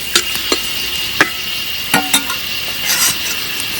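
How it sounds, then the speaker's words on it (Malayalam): Chopped tomato, ginger, green chili and garlic sautéing in a pan for a fish head curry, a soft sizzle under sharp metallic spoon clinks and scrapes against the pan, close and fairly loud. "ഇതിട്ടൊന്ന് വഴറ്റിയെടുക്കാം."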